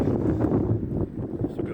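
Strong wind buffets the microphone outdoors at a rally trailer park on the Isle of Mull, a continuous low rumbling gusting throughout, close and loud.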